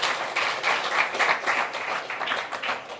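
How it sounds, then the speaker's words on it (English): Audience at a Jayanti celebration in a mandir applauds for Aja, a steady burst of clapping from a gathered crowd that holds fairly even for three seconds, close and full. "Give Aja a round of applause, everybody"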